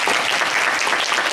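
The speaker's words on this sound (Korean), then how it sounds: "박수 한번 주시고요" Audience applause at a church service in Auckland, a dense, steady wash of many hands clapping at close range, loud and even throughout with no voices over it.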